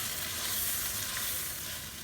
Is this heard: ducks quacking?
no